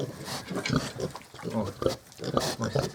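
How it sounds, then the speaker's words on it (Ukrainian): Piglets grunting and squealing in short bursts close by, mixed with a person talking over them. "А ось і поросятка, бачите?"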